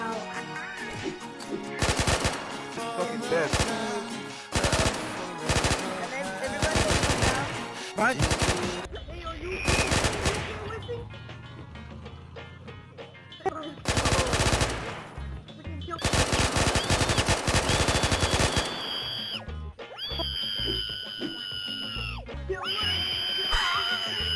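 Guns fire in bursts during a multiplayer round of the survival game Unturned, with loud rapid automatic volleys separated by short pauses. Excited players shout and talk over the shooting.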